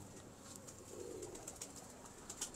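Pigeons cooing softly at a distance, a low murmuring coo rising and falling over steady background hiss, with a few faint chirps and no talking.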